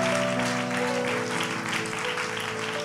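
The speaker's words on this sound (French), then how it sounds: "On acclame pour l'Esprit de Dieu." A church congregation applauding and cheering at a prophetic service, dense sustained clapping mixed with voices and a held musical tone underneath, loud and continuous throughout.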